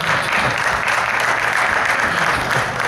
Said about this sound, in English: I think people liked it because they applauded.